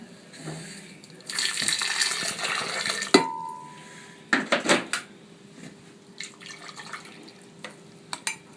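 Boiled water poured while making a pennywort drink with tamarind, a close splashing stream running for a couple of seconds, followed by clinks and smaller trickles and drips.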